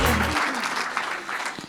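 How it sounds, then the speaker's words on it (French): Applause from an audience at an Alsace crafts award evening, a brief burst of clapping heard under a presenter's voice, with a low musical sting at the start. "sous vos applaudissements."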